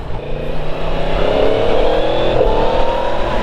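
A brand-new 2023 Yamaha MT-10 motorcycle engine revs hard and climbs in pitch, loud and close, with a steady roar throughout and no talking.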